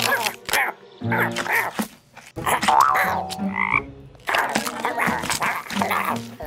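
Several animated cartoon frog croaking calls break out between bursts of animated speech and music, loud and close, mixed with other voices.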